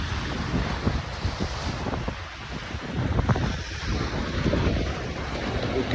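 Strong wind buffets the microphone on a small island in the middle of the sea, with waves washing and surging all around in a loud, continuous roar that swells and eases unevenly.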